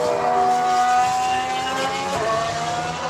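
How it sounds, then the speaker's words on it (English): A Renault Formula 1 car on a test-day track snaps into oversteer, its engine holding a steady high-pitched drone with a slight pitch dip and recovery, loud and continuous with no talk. "Big kick of oversteer in the Renault there."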